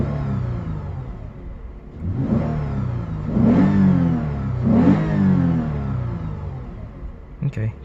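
A 2015 Lexus RC 350 F Sport engine in sport mode revs up in two or three rising surges over a steady idle, heard close from inside the cabin.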